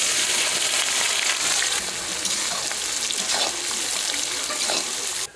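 Whole spices, bay leaves, cumin and dried chillies sizzle steadily in hot oil for a mutton curry, a loud, close, continuous frying hiss with faint stirring, fading out at the end.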